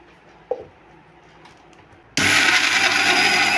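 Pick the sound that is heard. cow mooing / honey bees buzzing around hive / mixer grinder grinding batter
mixer grinder grinding batter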